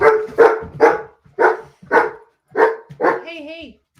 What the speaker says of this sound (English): Let's let him bark.